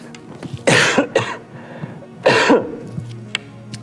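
Two harsh coughs sound close by, separated by a short pause, with softer throat noises in between.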